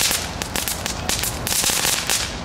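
Small HEMA firecrackers (knalerwten) crackle in a quick burst of sharp, snapping pops, several bangs in rapid irregular succession at moderate distance outdoors.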